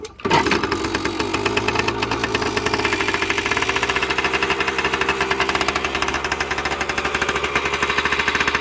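After a sharp kick-start, an engine fires and settles into a loud, rapid, evenly pulsing run on choke that carries on steadily.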